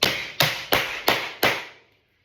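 Drone brood gets knocked out of beehive honeycomb with five evenly spaced, sharp knocks that fade after the last one, close and clear with no talking.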